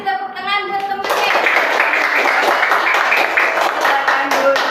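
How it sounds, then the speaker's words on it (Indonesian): Schoolchildren in a classroom clap for a classmate, brisk close clapping that starts suddenly after a short spoken prompt and continues with a voice over it. "Oke, kasih tepuk tangan buat temennya."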